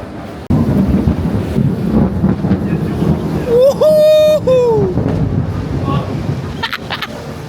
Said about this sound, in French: Mais c'était pas un flash, hein, c'était l'orage.